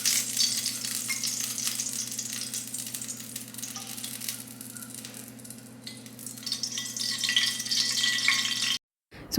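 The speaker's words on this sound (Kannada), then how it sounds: "ಆಮೇಲೆ ಒಗ್ಗರಣೆ ಹಾಕ್ತೀನಿ." Tempering spices sizzle and crackle in hot oil as avalakki is prepared, a dense close frying hiss over a steady low hum, swelling and easing, with a faint clink and a brief cut near the end.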